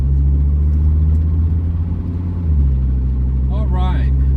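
Mercedes W126 300SD diesel sedan, lowered, idling with a steady low engine drone inside a shop, with a voice briefly speaking near the end.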